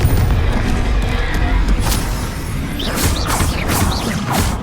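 Confringo blast spell in the video game Hogwarts Legacy: heavy booms and crashing impacts over steady combat noise, with a quick cluster of sharp whooshing bursts in the second half.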